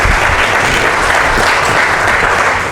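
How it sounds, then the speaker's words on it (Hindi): Loud, dense applause from a large audience at an open-mic poetry event at an awards show in India, a continuous close roar of clapping with no talk. "यहाँ से वहाँ तक ज़ोरदार एक बार तालियाँ बजा दें।"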